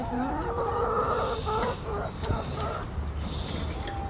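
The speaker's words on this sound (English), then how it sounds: "Little chickens." Chickens clucking and murmuring nearby, a busy mix of short calls with some voices mixed in.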